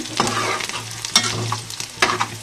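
Ingredients for a bitter gourd dish frying in a pan: a loud, close sizzle broken by several sharp stirring scrapes of a spatula, with no voices.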